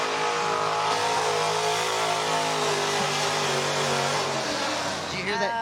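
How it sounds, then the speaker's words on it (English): Pulling truck engine at a county fair truck and tractor pull, roaring loud and sustained at the rev limiter with a rapid fluttering pulse, crowd and announcer voices mixed in underneath. "he's hitting the rev limiter of that truck"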